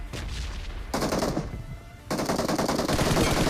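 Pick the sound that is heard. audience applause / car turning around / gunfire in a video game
gunfire in a video game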